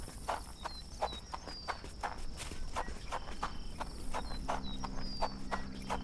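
A horse's hooves clip-clop at a steady walking rhythm in Sherlock Holmes: The Awakened, moderately close, over a faint bed of crickets and ambience.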